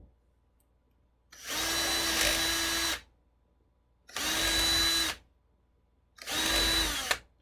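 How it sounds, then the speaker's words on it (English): A power drill whirs in three separate bursts, each a second or two long, drilling a hole in thin plywood with a jig, quiet pauses between, close up and loud. "So now we're going to drill the secondary hole."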